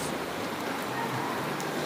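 Rain falling steadily in a riverside village in Central Kalimantan, a dense even hiss of drops that fills the whole stretch without pause or talking.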